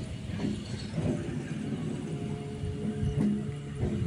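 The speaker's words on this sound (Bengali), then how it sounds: "এটি বিকেল 5টার ট্রেন, মোশাগ্রাম বাঁকুড়া লোকাল।" The Masagram–Bankura local passenger train rumbles steadily along with a low mechanical drone, broken by occasional rhythmic clacks of wheels over rail joints, heard from on board.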